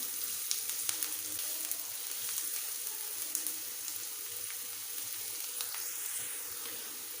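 Pizza sauce sizzling and frying in a pan, a soft continuous crackle with faint bubbling, quiet and steady throughout with no one talking.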